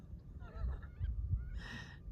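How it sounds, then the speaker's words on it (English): Canada geese honking outdoors, a few overlapping calls at moderate distance, with a louder, clearer honk near the end over low background rumble. "Canadian geese specifically like it when I read to them"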